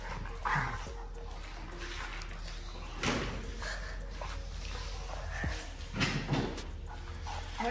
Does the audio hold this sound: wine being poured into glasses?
no